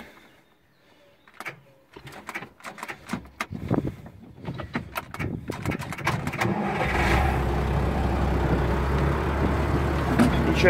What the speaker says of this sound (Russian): заводим трактор